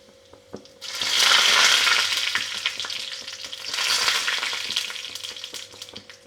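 Curry leaves hit hot oil with mustard seeds for tomato chutney and burst into a loud crackling sizzle, swelling twice and easing off, with a few sharp pops over a low steady hum.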